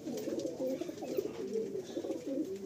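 Madrasi pigeons coo in soft, repeated rolling calls close by, a continuous low burbling with no talking.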